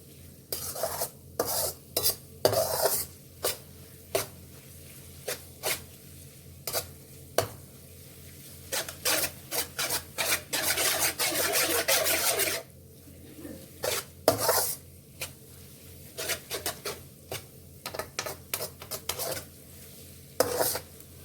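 Egg Maggi noodles cooking in a pan are stirred with a utensil. Close, sharp scraping and clinking strokes come in irregular bursts over a soft, steady sizzle, with one longer stretch of scraping midway and no voices.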